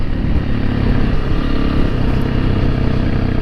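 A Honda CRF300L Rally motorcycle engine, still in break-in, drones loudly and steadily while being ridden, with a constant rough rumble and no voices.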